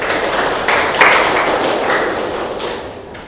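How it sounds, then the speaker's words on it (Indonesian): A school class claps for a classmate who answered correctly, a brief burst of close, fairly loud clapping from a small group that tapers off toward the end. "tepuk tangan untuk teman kalian"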